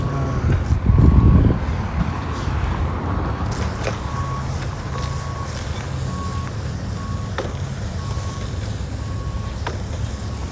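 Road traffic forms a steady low rumble of engines and tyres, with a truck's reversing beeps repeating at regular intervals and a brief louder passing rumble near the start.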